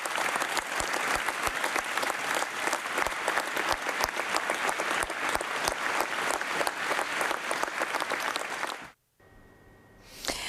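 Long, steady applause from a crowd in an Italian town honouring its mayor, dense and continuous for about nine seconds before it stops abruptly, leaving a quiet hum.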